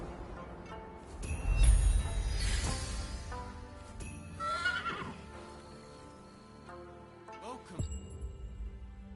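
Horses neigh and whinny several times in the video game Rise of the Ronin, over a low rumble and faint hoofbeats, with synthetic game-like tones in the background.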